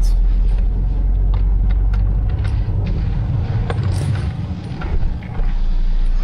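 A 2021 Mercedes GLB 250 driving on the road, heard from inside as a steady low engine and road rumble with tire noise, continuous and fairly loud, with no talking.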